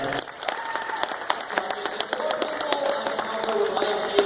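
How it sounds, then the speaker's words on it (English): A comedy show audience applauds a participant with steady, dense clapping, while a voice talks over the applause throughout. "give her a round of applause again"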